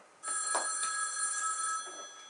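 A telephone rings once indoors during a theatre performance, a single short bright electronic trill lasting about a second and a half, fairly quiet and alone with no talk.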